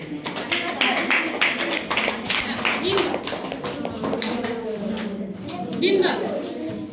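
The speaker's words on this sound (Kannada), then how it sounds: "ಚಪ್ಪಾಳೆ." A Kannada-language class of ninth-grade students claps in unison, short bursts of applause rising and fading while a teacher's voice carries over it in the classroom.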